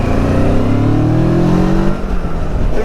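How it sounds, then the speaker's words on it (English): Steady road and engine drone from a Kawasaki Versys 650 riding on Bridgestone Battleaxe BT023 tyres, a continuous loud rumble with a slowly rising tone that dips slightly near the end, no voices. "road noise is a bit worse than the old tyres"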